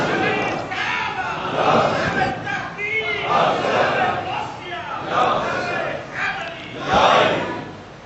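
Crowd at a religious Khatm-e-Nabuwat gathering chanting a slogan in loud, rhythmic waves of many voices, rising and falling in repeated bursts, close and full.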